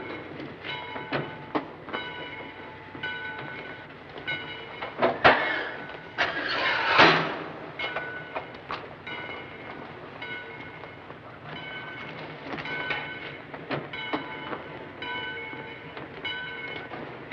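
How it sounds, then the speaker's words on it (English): A train rumbles and clanks steadily, with a couple of louder bursts of hissing brakes or steam near the middle. "Get in the train, Kelly."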